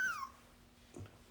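A brief high squeaky whimper that slides downward, followed by a faint soft yelp a moment later, quiet and close.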